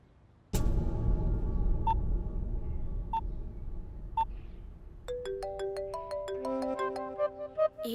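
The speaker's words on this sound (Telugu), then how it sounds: "ఏంటి ఎప్పుడు చేయని విక్కీ ఈరోజు నాకు కాల్ చేస్తున్నాడంటే టుడే వెరీ సంథింగ్ స్పెషల్" A mobile phone ringtone for an incoming call in a Telugu movie scene rings out loud and near, opening with a steady tone and sparse pings before a busy, repeating electronic melody takes over, with no voices.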